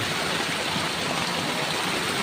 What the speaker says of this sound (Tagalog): Ayan, Tungtong Falls